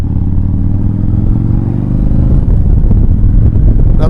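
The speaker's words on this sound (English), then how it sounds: "Another motorcycle guy." A motorcycle passes on a rural road near a small town, heard from another rider's bike as a loud, steady engine drone that swells and shifts as it goes by, with no talk over it.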